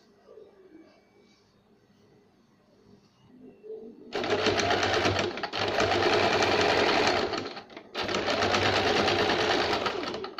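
A sewing machine stitches lace onto a one-year-old's baby frock, starting after a quiet stretch with two long, loud runs of steady whirring split by a brief pause, close by.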